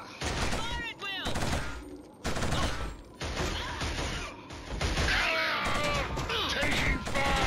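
Dense, continuous rifle and machine-gun fire rattles through a Killzone PS3 battle, sharp overlapping bursts near and far with impacts, while soldiers shout beneath the barrage.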